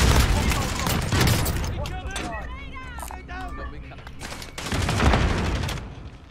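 Bursts of automatic gunfire in a video game pour into a doorway, loud rattling volleys at the start and again near the end. Tonal chirps and effects sit in between, and voices talk over parts of it.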